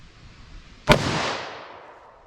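A single sharp, loud shot from a snub nose revolver firing .38 Special +P Buffalo Bore TAC-XP ammunition cracks once outdoors and decays into a lingering echo.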